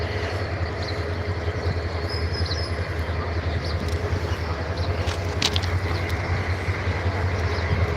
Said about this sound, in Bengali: ইতিমধ্যে আর একটি যে কমিউটার ট্রেন প্রবেশ করছে